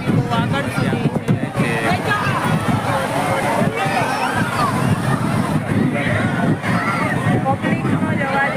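Crowd noise at Juhu Beach, a dense loud babble of many voices mixed with wind buffeting and water sounds, with boats nearby, steady throughout.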